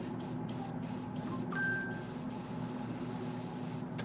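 A paint spray gun test-sprays before repainting a statue, a steady close hiss running throughout with a few brief sharper bursts and faint clicks.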